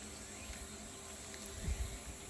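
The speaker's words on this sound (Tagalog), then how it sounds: "Puro kuliglig lang maririnig mo dyan." Crickets chirp in a quiet morning in Niigata, Japan, a steady, faint, high-pitched drone that runs without pause, with a brief low thump near the end and no talking.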